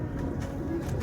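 A domestic pigeon coos in a low, soft, throaty murmur, heard close up and alone for about a second.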